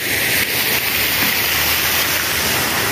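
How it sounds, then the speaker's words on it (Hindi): Rain falls steadily outdoors near a residential pool area in Shah Alam. It makes a dense, continuous hiss that stays loud and even throughout, with no voices. "बारिश हो रही है"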